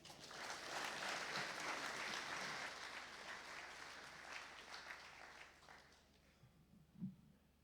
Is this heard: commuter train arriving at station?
no